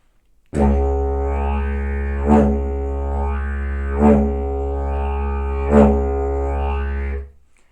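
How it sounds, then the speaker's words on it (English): A didgeridoo drones with a deep steady tone, punctuated by three rhythmic pulsed accents, then stops abruptly; played solo and close. "When I do this with the didgeridoo, it looks and sounds like this."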